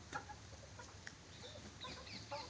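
Chickens, roosters among them, cluck softly around a small poultry farm in Bhimavaram, with scattered faint clucks and short calls over low background noise.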